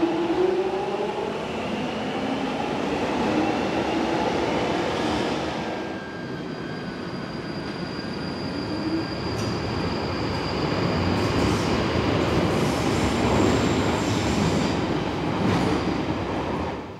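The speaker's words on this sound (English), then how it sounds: "the differences in sound when the train arrives and departs, the 1996 stock of which being the iconic Jubilee Line noise" A London Underground Jubilee Line 1996 stock train rumbles loudly and steadily through the station, with a rising whine and faint wheel squeal over the sustained roar.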